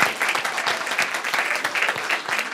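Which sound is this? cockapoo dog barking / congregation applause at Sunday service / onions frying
congregation applause at Sunday service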